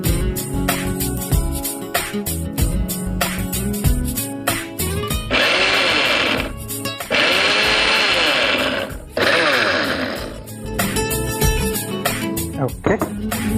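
A mixer grinder blends plums into a paste in a home kitchen, its steady loud whirring coming in bursts of a few seconds with brief stops, framed by music before and after.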